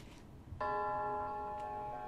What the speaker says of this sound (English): The bell tower.